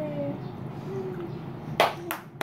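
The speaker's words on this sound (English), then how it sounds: "Yay, she's going to clap." A little girl claps her hands as a new trick, a few sharp claps near the end of a quiet stretch with faint background murmur.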